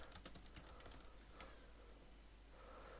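Quick, faint clicks of typing on a computer keyboard during an online Pokémon battle, a short burst of keystrokes with a single stronger tap, close and quiet with no talk.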